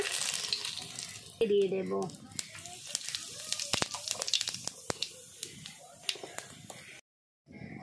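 Dried red chillies and bay leaves crackle and sizzle in hot tempering oil for a Bengali chicken curry, a steady close frying hiss with sharp pops, briefly under a woman's speech and cutting off near the end.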